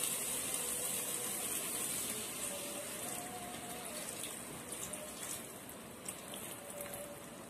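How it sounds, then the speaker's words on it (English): Water pours steadily into a pot with a faint trickling hiss, quiet and continuous for several seconds. "Add in a bit of water."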